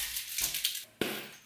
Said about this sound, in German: deswegen hauen wir jetzt noch Eiswürfel rein.